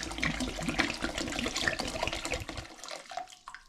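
Water pours steadily into a cider home brew vessel, a close, continuous splashing trickle that tapers off and stops near the end.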